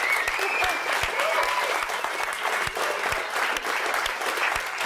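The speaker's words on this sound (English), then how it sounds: "So just a round of applause to everyone." An audience at an alumni panel event applauds in a dense, steady wash of clapping from many hands that holds evenly throughout.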